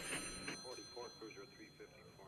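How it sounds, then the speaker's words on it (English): A telephone rings steadily in a quiet room in the 1974 film Black Christmas, faint beneath a conversation between people. "Your phone's ringing."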